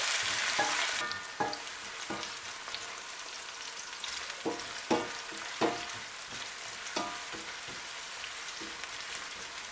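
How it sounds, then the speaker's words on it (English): Loud sizzling of onions and spring onions frying in hot oil, with intermittent scraping clatter of stirring throughout. "our oil is hot now, and the first thing we're going to do will be to fry our onion and spring onion"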